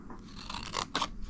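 Scissors cutting plastic sleeves, a few close crisp snips in quick succession, each a brief rasping slice, with no voices.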